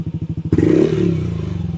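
A Yamaha Aerox V2 scooter fitted with a TRC Racing exhaust pipe idles close up with a loud, pulsing beat, then revs sharply and holds a raspy, buzzing high-rev drone.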